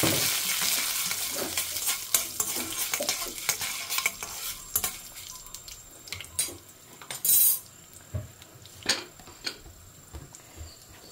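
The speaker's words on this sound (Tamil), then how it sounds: "கடுகு பொரிய ஆரம்பிச்சுருக்கு, ஆல்ரெடி நல்லாவே சுட்டுடுத்து எண்ணெய்." Mustard seeds and two broken dried red chillies frying in hot oil for orange dal sambar, giving a busy crackle of spluttering pops and sharp clicks over steady sizzle, with occasional louder bursts.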